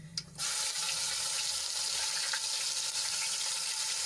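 Ginger, garlic and green chilli paste sautés in hot oil with cumin and mustard seeds. A steady, loud, close sizzling hiss runs almost the whole time after a brief quieter start, with no speech.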